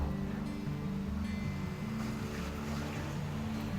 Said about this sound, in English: it's quite noisy with the traffic here today